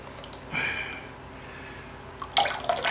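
Canned tomato liquid pours into a small bowl in two short splashing bursts, a brief gurgle early on and a louder, busier spatter near the end, close by with quiet room tone between.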